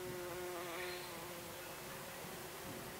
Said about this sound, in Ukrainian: встановити вулик з бджолами